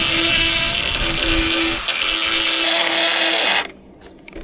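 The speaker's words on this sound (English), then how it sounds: "the die grinder seems to be cutting out on me all the time" Battery die grinder on a Massey 50B back actor, whining steadily at close range with a loud broadband hiss, then abruptly cutting out and dropping to near quiet for the last second.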